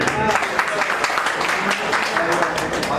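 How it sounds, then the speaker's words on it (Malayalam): Applause from the audience at a state general body meeting of an association, steady dense clapping running throughout under a continuing voice over a loudspeaker. "അപ്പൊ എല്ലാവരും കൈയടിക്കേ"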